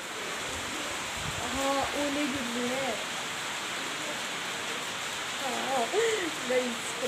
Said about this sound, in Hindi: ओले गिर रहे हैं गाइस।